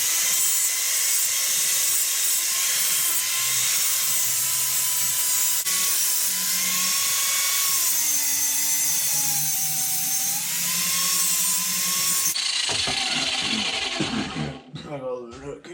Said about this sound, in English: I gotta keep my mouth shut when I'm grinding.